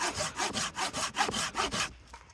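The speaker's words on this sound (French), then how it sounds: "Il était en train de scier, sa scie elle a explosé." A hand saw cuts snow-covered wood at a winter bivouac in the snow, making about eight even back-and-forth rasping strokes up close before stopping abruptly.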